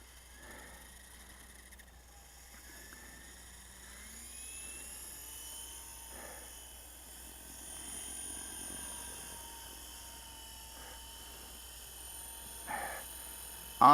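An Esky Honey Bee V2 fixed-pitch RC helicopter runs its rotor with a steady, fairly quiet whine and hum, alone with no talk and a brief louder bump at the very end.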